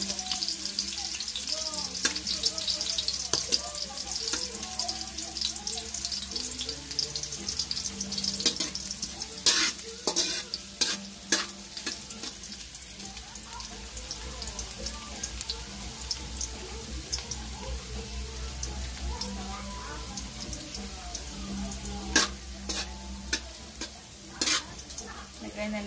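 Ginger, garlic and onion fry in a pan for dinuguan, a sustained close sizzle broken by frequent scraping stirs and occasional sharp utensil knocks, with no talking.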